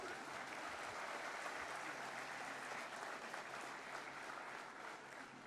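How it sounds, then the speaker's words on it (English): At a university convocation ceremony in Kozhikode, a large audience applauds in a continuous, even roar of clapping that holds steady for the whole stretch, heard from a distance in a big hall. "I think it's only half the audience applauding."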